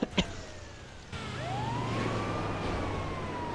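An ambulance siren wails in GTA 5, a rising and falling electronic tone that starts after a couple of brief knocks and continues steadily over a low engine drone, moderately near.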